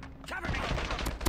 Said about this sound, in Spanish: Están disparando por este lado.